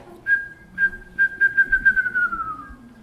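A group of people whistles a short tune together, a run of clear sustained notes with a few pauses that slide gently downward toward the end, moderately loud with no talking.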